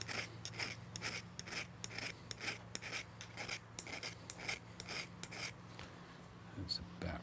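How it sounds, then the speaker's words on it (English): A metal file rasps across the barb of a fishing hook in a rhythmic series of about sixteen short, even strokes, quiet and close, with a brief pause near the end. "I'm letting the file do the cutting"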